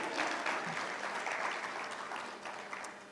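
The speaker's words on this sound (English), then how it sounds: "you can clap for yourselves" Graduates at a coaching certification ceremony clap for themselves in a sustained round of applause from a large group, gradually tapering toward the end.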